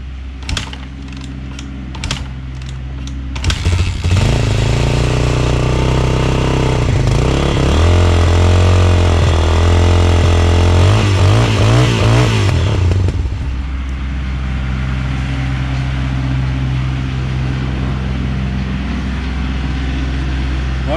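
A Yamaha XT350 single-cylinder motorcycle engine fires up on the first kick after carburetor work and settles into a loud, steady idle with a revving burst midway, preceded by a few sharp clicks and knocks.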